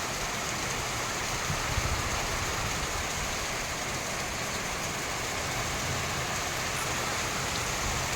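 Steady, even hiss of rain falling, a continuous wash of sound with no voices and no breaks.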